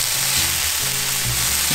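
Onions and celery fry loudly in a pan, a dense, continuous sizzle heard close up with no talking.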